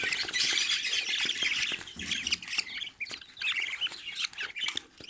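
Many young songbirds chirp and squawk busily in a home aviary with nestlings, a loud, continuous overlapping chatter of tweets close at hand.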